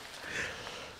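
A person blows their nose during a relaxed conversation, a soft, breathy honk lasting about a second, faint and close to the microphone.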